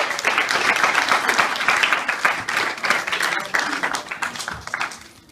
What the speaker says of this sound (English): please give the two debate teams a nice loud round of applause